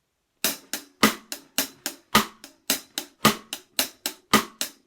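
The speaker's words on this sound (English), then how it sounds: "So the snare and the hi-hat together sounds like this." Drum kit groove of cross-stick snare clicks and accented hi-hats, played in a tight repeating rhythm of sharp close hits, loud and clear with no voices.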